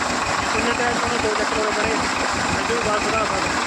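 A tractor engine runs steadily while pumping water out of low-lying ground, making a close, even low-pitched throb with a rapid pulsing beat as someone talks over it.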